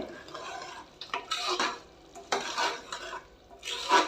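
Masala frying in a pan over a medium-low flame, heard as uneven bursts of spoon scraping and stirring against metal over a soft, low sizzle, close and fairly quiet between strokes.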